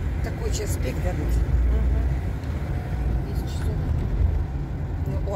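Rush-hour city traffic with a bus moving nearby, heard as a steady low engine rumble and road roar that swells briefly, with voices present underneath.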